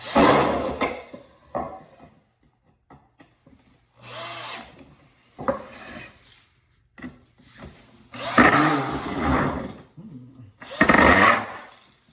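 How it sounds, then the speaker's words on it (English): A power drill whirs in several bursts, driving screws into a wooden workbench, with rising and falling motor pitch between short pauses and occasional low speech, close by. "then we can just drill them down in."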